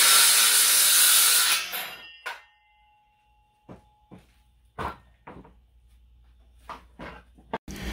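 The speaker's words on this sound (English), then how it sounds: "go make the cuts on these boards" A loud saw rasps through wooden boards for a table build for about a second and a half, then stops, leaving scattered knocks and clunks of wood being handled nearby.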